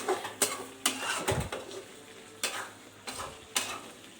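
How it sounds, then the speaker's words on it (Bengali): Chicken curry sautéed and stirred in a pan for a dinner of curry and flatbread, with soft sizzling under repeated scraping strokes of a spoon against the pan, several sharper clinks spaced through it. "এখন কষানো হচ্ছে"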